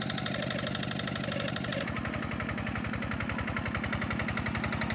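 A Yanmar TF 70 tractor engine on a Krishna chassis idles steadily near a rice field, a continuous low, throbbing chug with a regular mechanical pulse and no talking.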